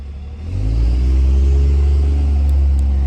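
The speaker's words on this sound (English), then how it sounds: "The neighbor's truck is driving away" A neighbor's truck pulls away nearby, its low engine rumble swelling after half a second and holding steady and loud throughout, with no talk over it.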